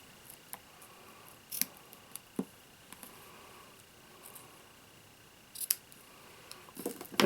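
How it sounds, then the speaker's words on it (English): Scissors snip at a notebook cover in short, crisp cuts, spaced irregularly, close but fairly quiet, with faint handling rustles between the snips. "And I can trim it up just a little bit more."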